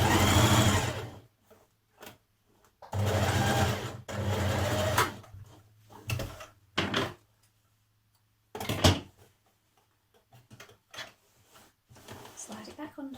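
A sewing machine stitches down a skirt side seam in a few brisk bursts of rapid whirring, broken by pauses, short back-tack spurts and light fabric handling, with a voice talking at times.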